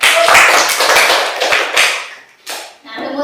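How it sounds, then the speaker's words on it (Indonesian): A classroom of students claps hands in an uneven, loud patter that dips briefly near the end, with voices mixed in before it trails off. "Iya, tepuk tangan."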